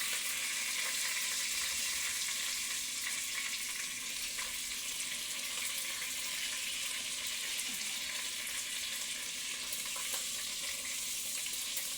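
Chicken frying in a Dutch oven, a steady, fairly quiet broadband sizzle that holds constant for about twelve seconds with no talking.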